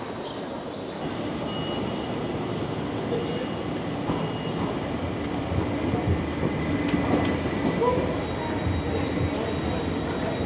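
A Swiss panoramic train to Locarno rumbles steadily at a station platform with a broad low roar, faint squeals and clatter rising over it, with a murmur of people in the background.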